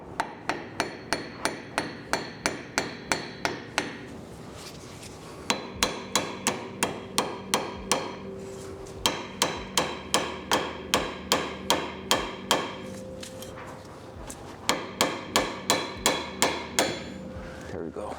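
Metal hammer strikes on a car's front coilover hub, fired in quick rhythmic bursts of about eight to ten ringing blows each, separated by short pauses, loud and close.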